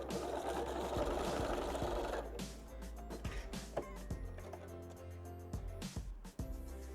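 A sewing machine zigzag stitches back and forth on fabric while sewing cloth face masks, running in a fast close mechanical whir, then breaking into shorter bursts of rapid ticking stitches with brief pauses.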